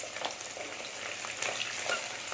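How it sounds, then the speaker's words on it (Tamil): Small shallots tossed into hot oil with popped fenugreek seeds for a kodampuli fish curry, crackling in a bright, continuous close-up sizzle with faint stirring throughout. "இரநூறு கிராம் சின்ன வெங்காயம் இதில் சேர்த்துடலாம் வெந்தயம் நல்லா பொறிஞ்ச உடனே சேர்த்துக்கோங்க"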